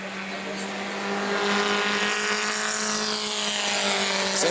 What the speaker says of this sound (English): So next car out on the track